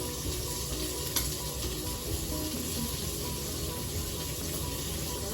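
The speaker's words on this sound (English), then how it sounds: "Well, we're letting our bacon cook." Bacon frying in a pan gives a steady, dense sizzle that runs unbroken from start to finish at moderate level. No one speaks, and only faint clicks or stirs break the even hiss.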